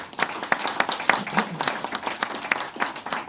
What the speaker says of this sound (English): I think we really should be giving the Canadian government another round of applause for that